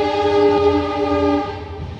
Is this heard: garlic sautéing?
no